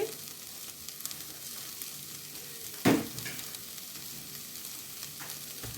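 Tomato puree being stirred into a Tuscan bean stew over very low heat, a faint steady simmer with one sharp clack of a spoon against the pan partway through, close and quiet.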